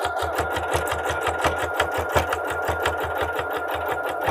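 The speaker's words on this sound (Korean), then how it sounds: "이렇게 해서 위에 한 바퀴 박음질 해줬습니다" A home sewing machine stitches steadily around the top edge of a natural-fabric tote bag, its needle thumping in a fast, even rhythm close by with no talking.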